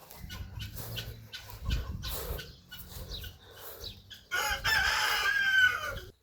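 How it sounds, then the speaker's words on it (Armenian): Hens cluck in a backyard coop: a rough, uneven run of clucks and squawks at close range, growing louder and busier in the last couple of seconds, with no voices. "Երկու հավ իրար հետ նստած են։"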